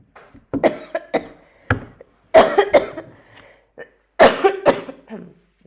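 A series of harsh, close coughs comes in irregular bursts, some single and some in quick clusters, with brief throat-clearing between them.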